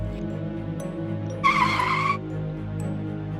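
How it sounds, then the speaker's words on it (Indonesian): A sudden car tire skid, sounding as a sharp screech for under a second against a steady low engine hum, with no talking. "Aku pun ngerem mendadak."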